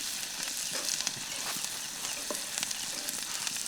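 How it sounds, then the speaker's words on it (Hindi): Onions sizzle and fry steadily in a pan over a campfire, a dense crackling hiss with faint stirring scrapes, close and continuous. "प्याज का तो थोड़ा कलर आना ही है, तब तक फ्राई करना है"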